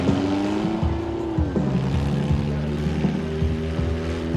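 Mini monster truck engine droning at Potomac Speedway, a steady loud rumble whose pitch drops and settles midway, with the rough roar continuing near and unbroken throughout.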